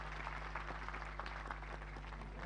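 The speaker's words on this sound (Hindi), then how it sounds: "अपने लिए एक बार तालियां बजा दो, अपनी भक्ति के लिए एक बार तालियां बजा दो" Audience applause fills a hall at an Osho birthday celebration at Oshodhara Nanak Dham in Murthal, a steady soft clatter of many hands held at low, even volume throughout.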